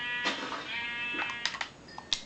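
Sheep bleating in the Minecraft video game, several short bleats spread across the clip over a steady background hum, with light clicking sounds near the end.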